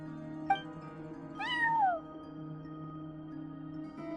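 A cat meows at a front desk in the video game Genshin Impact, one clear rising-then-falling meow over a steady humming music bed, preceded by a short chime.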